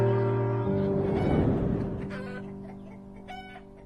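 Chickens cluck in a short burst of close, layered fowl calls that fade toward the end, with narration playing over them.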